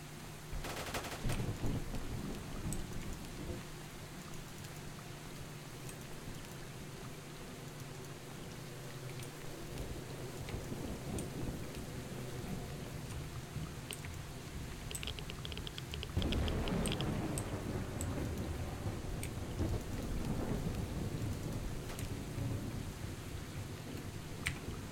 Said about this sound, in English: It's rainy on the menu!